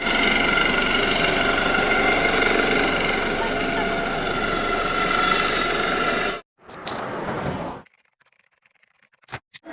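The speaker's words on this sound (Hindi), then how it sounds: "ये हेलीकॉप्टर है।" A helicopter at a political election rally in Moradabad, India, roars loudly and steadily at close range for about six seconds, then cuts out. A brief second burst follows before near silence.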